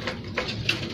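Soft, low pigeon coos sound faintly amid light background noise, with a couple of brief fluttery accents, from racing-type merpati pigeons kept and trained by a hobbyist.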